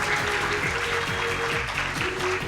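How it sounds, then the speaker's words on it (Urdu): Audience applause welcoming a guest at a National Minority Day event, a dense steady round of clapping held at even volume over a low rhythmic musical background throughout. "بھرپور تالیاں ہونی چاہیے میم کے لیے۔"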